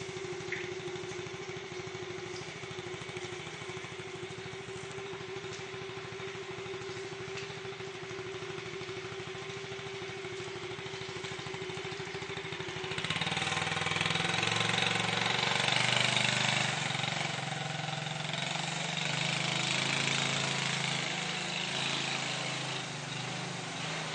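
A motorbike engine idles steadily to drive rice processing on a farm, then rises into a louder, rougher run partway through, with no talking.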